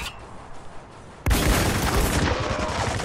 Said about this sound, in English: Is someone shooting at me?